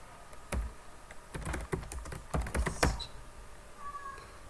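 A name typed on a computer keyboard, a quick burst of about a dozen crisp close key clicks, fairly quiet, then stillness.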